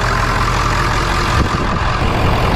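Low, steady rumble of a Ford truck engine idling nearby, continuous and fairly loud with no voices.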